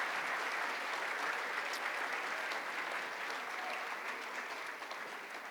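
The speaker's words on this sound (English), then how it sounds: "Please give them a round of applause" A large audience applauds steadily at the 2024 UNLV Athletics Hall of Fame ceremony, a thick, even roar of many hands that holds throughout and eases slightly near the end.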